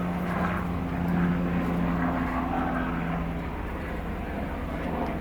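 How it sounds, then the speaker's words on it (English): A helicopter flies past, its steady droning rotor and engine hum rising slightly and then easing off, fairly loud and continuous throughout, with no voices. "I just had to wait for that helicopter to go by."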